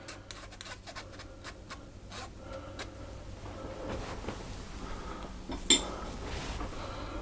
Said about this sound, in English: I'm just going to scrape out the inside as well, because it's all mushed up nicely.